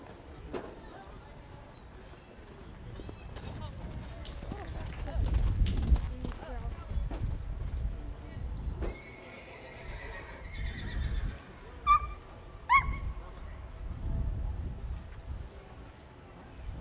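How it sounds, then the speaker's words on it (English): Horses lope at a steady gait during a 4-H horse and pony equitation class, hoofbeats thudding in a loose rhythm, with occasional whinnies and snorts and a few voices in the background. "Lope your horses, please."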